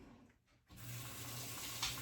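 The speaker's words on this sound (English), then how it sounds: "going to put some more water in here." A kitchen tap runs water into a pot of drained beans for soup: near-silence at first, then the steady, splashing gush of the stream starts and keeps flowing.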